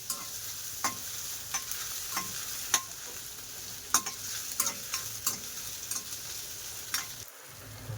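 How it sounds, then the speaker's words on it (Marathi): Tomato, ginger and green chili sauté in a pan for dal khichdi, a steady sizzle broken by repeated sharp clicks and scrapes of a stirring spoon against the metal, close up with no voices. "थोडासा टमॅटो। चांगलं परतून घेऊया आल्याचं वास जाईपर्यंत।"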